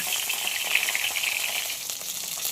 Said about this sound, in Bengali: 2 সাইডে খুব ভালোভাবে ভেজে নেব।